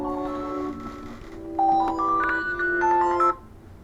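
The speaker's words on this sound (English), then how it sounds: "Excuse me, that was my alarm." An electronic alarm goes off with a series of shrill, melodic beeping tones, steady then stepping up in pitch, fairly close and alone before cutting out.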